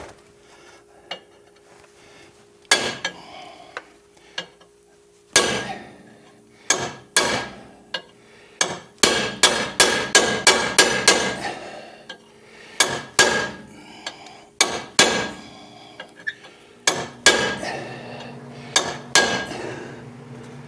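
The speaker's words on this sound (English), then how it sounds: "we'll keep using the ball peen hammer" Ball peen hammer striking a front ball joint on a 2006 Pontiac Torrent, sharp metallic blows in irregular bursts, some single and some in rapid runs of a dozen or so, with quiet gaps between.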